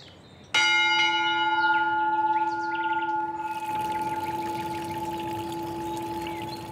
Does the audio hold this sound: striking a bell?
yes